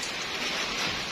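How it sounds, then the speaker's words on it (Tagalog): Rain falls steadily in a rural farm setting, a dense, even hiss of drops close by with no other sounds over it. "Habang umuulan."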